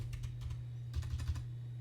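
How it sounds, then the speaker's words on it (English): Quiet typing on a computer keyboard while setting up a network router, heard as a short run of soft, uneven keystroke clicks over a steady low electrical hum, with no talking. "Oh man, I'm terrible with this typing."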